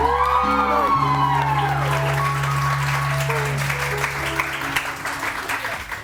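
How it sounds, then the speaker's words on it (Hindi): Studio audience on a New Year's morning television show applauds over loud musical tones and sweeping sound effects, the clapping steady beneath the music and becoming clearer as the music thins toward the end. "बहुत सारी तालियां जी"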